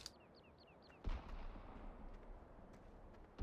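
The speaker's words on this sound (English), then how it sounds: "I'm hearing some more gunshots." Distant gunshots in the video game Farming Simulator 17 boom twice over a steady rumbling background, with faint chirping tones early on, no voices.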